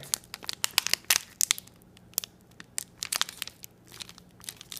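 Packaging of a Chuao Salted Chocolate Crunch bar being cut open: irregular crinkling and tearing bursts of wrapper, close and moderately loud, with quiet gaps between handling sounds and no speech.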